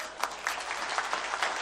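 A crowd at a protest rally against the Vatad MIDC industrial project claps, giving fairly quiet, brisk applause with individual claps audible through the short burst.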